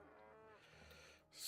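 A cartoonish cow moos in the management game Sintopia, one drawn-out low call heard faintly on its own, followed by a bright rising game chime.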